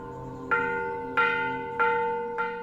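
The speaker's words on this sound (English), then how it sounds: "The gong dictates the pace of the monks' lives, the beginning and end of their work, prayers, and meals." Buddhist monastery gong in Luang Prabang, Laos, struck four times at a slow, even pace, each stroke a loud metallic clang with long ringing overtones that overlap the next stroke.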